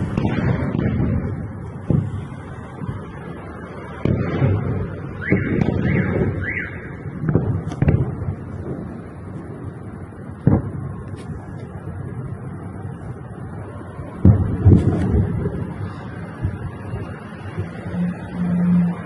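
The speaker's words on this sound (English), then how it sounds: "listen to how close these explosions are" Several heavy booms and thuds of nearby explosions in Russia's Kursk region, at irregular intervals, some close and sharp, over a wailing alarm-like tone and background rumble.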